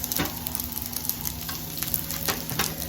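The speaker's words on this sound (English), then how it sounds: "We're going to throw our veggies on." Vegetables in a little oil sizzling on a Blackstone flat-top griddle, a steady close frying hiss with small crackles and pops throughout, no voices.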